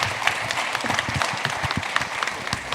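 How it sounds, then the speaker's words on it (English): Audience applause for a panel at the Da Nang Venture and Angel Summit, a dense, steady wash of clapping from a seated crowd lasting the whole stretch at moderate loudness. "let's make a big applause for all the panel here."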